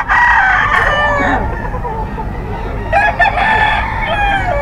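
A bull stag rooster crows loudly and close by at a busy pet market. One long crow is followed by a second about three seconds later, over a dense background of market chatter and other fowl.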